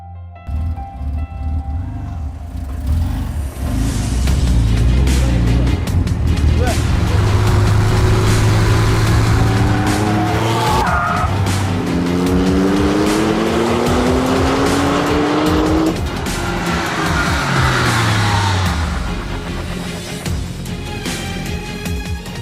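A W Motors Lykan Hypersport drives past with a loud engine that rises and falls through gear changes, sweeping closer and then away across a long pass.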